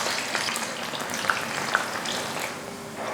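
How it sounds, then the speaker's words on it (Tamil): Onions frying in hot oil for Hyderabadi chicken dum biryani: an even, close sizzle that holds steady throughout, with a couple of faint clicks. "இந்த டைமில் நம்ம வெங்காயத்தை போட்டுடலாம்."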